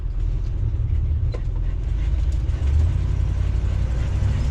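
Chevrolet 454 big block Class A motorhome cruising at highway speed with the cooling fan now quiet, a steady low engine and road drone from inside the cab, with an exhaust leak present, constant and fairly loud.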